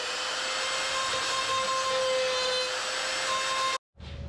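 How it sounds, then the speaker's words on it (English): A continuous rough grinding whine from a power tool cutting a car's bonnet along a template line for a 4-inch stainless steel snorkel on a Nissan Patrol, holding steady then stopping abruptly near the end. "decided just to cut to the template line instead of staying 10mm in from that line"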